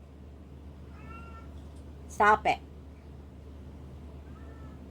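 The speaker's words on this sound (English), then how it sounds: "You can meow if you want to." A pet cat lets out two short meows close by, with a person's voice speaking briefly before and after over a quiet room hum; no door scratching stands out.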